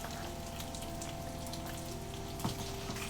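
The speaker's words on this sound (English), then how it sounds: "the sizzle of bacon's so good" Bacon sizzles in a frying pan, a steady crackling hiss with scattered spitting pops, close and continuous, with no voices.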